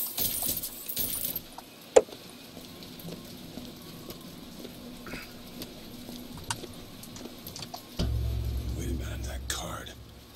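Keys being picked up in the video game Bioshock Infinite, a soft jangle of metal keys over quiet game ambience with scattered small clicks and a swell of noise near the end.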